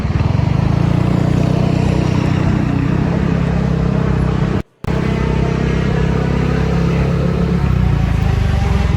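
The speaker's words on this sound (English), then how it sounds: "it's go-kart racing. Really, really fast go-kart racing." Fast go-karts running on a practice track for an upcoming race, a loud continuous engine roar close by that holds steady for the whole stretch, broken only by a brief cut near the middle.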